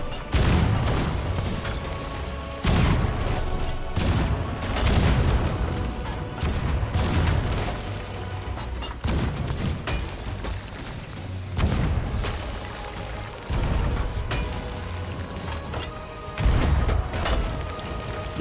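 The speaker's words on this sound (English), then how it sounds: "The thing that I have a problem aiming with in this game are the cannons." Ship cannons fire again and again in the pirate game Sea of Thieves, heavy booms and volleys every few seconds over a continuous noisy backdrop.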